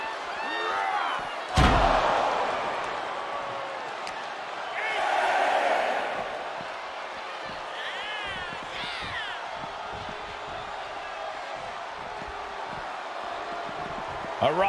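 A raucous WWE SmackDown arena crowd roars and cheers with a sharp slam early on and swells of noise. A commentator talks over the din throughout.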